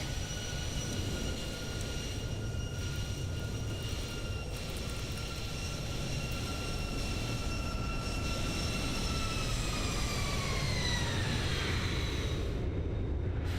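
Boeing 737-800 in the X-Plane 11 flight simulator makes a flyby, a steady jet engine roar with a high whine that slides downward as it passes, constant and fairly loud, then a brief cut near the end.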